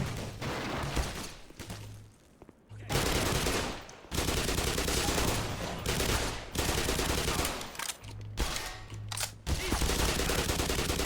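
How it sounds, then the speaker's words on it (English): Bursts of rapid automatic gunfire in the shooter game Black Mesa, loud clustered volleys separated by brief pauses. "somebody else still shooting"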